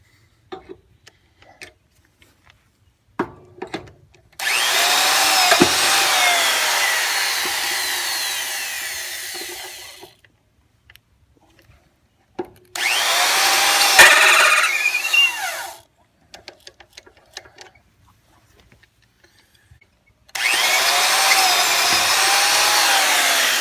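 Power drill running a slightly smaller, sharper bit: three long, loud whirring runs of several seconds each, separated by quiet gaps with faint clicks and handling taps.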